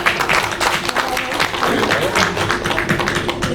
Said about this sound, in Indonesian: Kita berikan tepuk tangan dong untuk mereka.